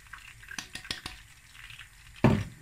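Flour goes into hot oil in a pot for tahini halva and is stirred, giving soft scraping and a few utensil clinks, then a louder sizzling burst near the end.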